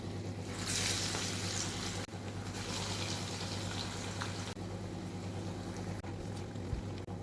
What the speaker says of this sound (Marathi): आता आपण बघा हे पॅटीच्या शेपमध्ये ह्याला फ्राय करून घेऊया